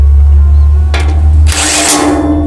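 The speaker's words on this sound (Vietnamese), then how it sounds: "Sau khi lấy lỏng con ốc thì máy sẽ quay với tốc độ 300 vòng trên phút." Makita TW004G 40V Max cordless impact wrench, a loud close motor whine that rises as the tool spins up, followed by a sharper, brighter high-speed burst of hammering.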